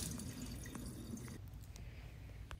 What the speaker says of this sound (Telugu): ఇలా లెఫ్ట్ సైడ్ తిప్పితే మనకి ఫుల్ చాలా హాట్ వాటర్ వస్తాయి